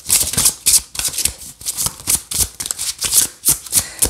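Tarot cards shuffled by hand for a reading, a rapid close series of crisp riffling bursts and soft taps repeating steadily throughout, with no talk.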